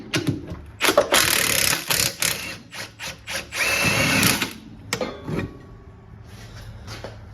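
A power tool rattles and buzzes in bursts while removing bolts from the torque dampener on the rear differential of a first-generation AWD Honda CR-V, loud and close, with clanks of metal parts between runs.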